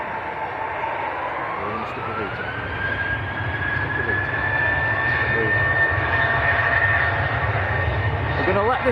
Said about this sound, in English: We're going to let this Ryanair go, guys.